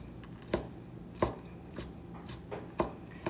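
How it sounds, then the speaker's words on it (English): A kitchen knife rough-chops ingredients for crab and shrimp stuffing on a cutting board, four or five distinct, evenly spaced thuds with quiet gaps between, close and fairly soft. "Just like rough chop it"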